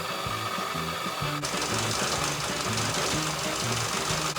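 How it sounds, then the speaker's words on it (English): Stand mixer beating mascarpone and powdered sugar together, a steady mechanical whir with a pulsing, churning rhythm, close and continuous with no talking. "Put it on our stand mixer, and just start combining everything."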